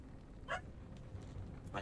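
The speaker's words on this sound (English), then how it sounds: "Man, what's this dog barking about?" A dog in a video game barks twice, short and sharp, over a low steady background hum.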